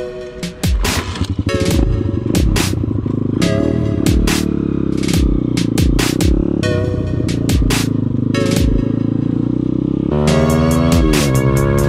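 A motocross dirt bike is ridden close by, its engine loud and buzzing as it revs up and down repeatedly with sharp throttle blips and gear changes, and it carries on without pause throughout.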